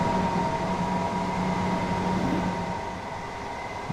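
A train running in the video game Train Sim World 3 on a French route, a steady rolling rumble with a constant hum that eases slightly toward the end, with no speech.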